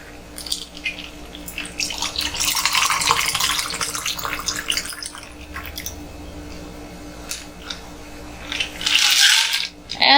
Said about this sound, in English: we're gonna pour it in.